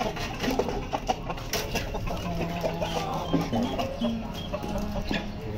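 A rooster and hens clucking nearby in short, scattered bursts as the hens eat roti, with a steady rustling farmyard background and no talking.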